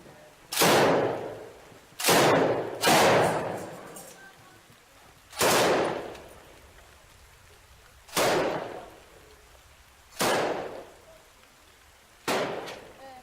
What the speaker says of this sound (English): fires back towards a building where they have spotted enemy snipers